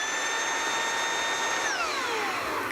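A lightweight vacuum cleaner runs with a steady motor hum and a high whine that dips in pitch near the end. It is fairly quiet and close, with no talking.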